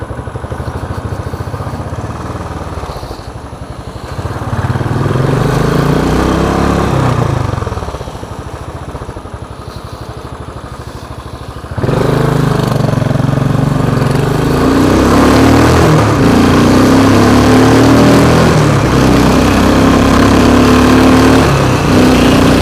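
A Royal Enfield 535 Continental GT single-cylinder motorcycle ridden along switchbacks, its loud engine rising and falling in pitch through gear changes and throttle, with a brief ease-off midway before pulling hard again, close and continuous.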